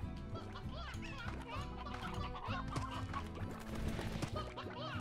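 Chickens cluck and chatter in a busy cluster in the video game Slime Rancher against a steady musical backdrop, with a voice talking over them now and then.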